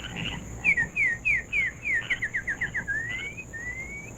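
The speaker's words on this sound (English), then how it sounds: "Did I just hear birds chirping at night?" A bird sings at night, a rapid series of descending chirps, about a dozen notes in quick rhythm, ending in rising whistles, clear and fairly close over a faint steady hum.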